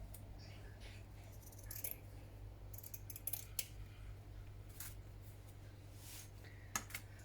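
Scissors snip through white Hessian fabric in short bursts of crisp cutting sounds, close to the mic over a low steady hum, with brief pauses between cuts and no voices.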